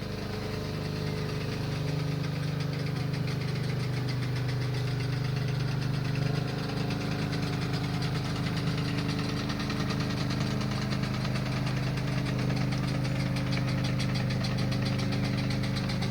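A miniature steam engine, a working scale model, runs steadily at a parade of miniature steam vehicles, giving a continuous mid-pitched mechanical chugging with light knocking that stays at an even level throughout, with no talk over it.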